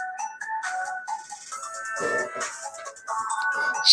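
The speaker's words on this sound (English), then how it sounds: "why is my phone ringing at me? I thought I put it on silent." A mobile phone rings with a repeating electronic melodic tone that comes in bursts over a few seconds, fairly close and clear indoors.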